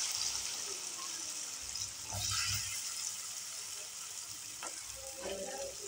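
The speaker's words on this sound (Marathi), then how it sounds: "तेल आणि बटर छान गरम झाल्यानंतर त्याच्यामध्ये मी बारीक चिरलेला कांदा टाकते" Finely chopped onion frying in hot butter and oil for butter pav bhaji, a steady close sizzle with light stirring clatter and occasional soft clicks throughout.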